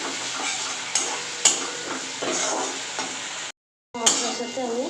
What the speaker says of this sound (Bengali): আবারও এটাকে মশলাটাকে একটু মিশিয়ে নেব।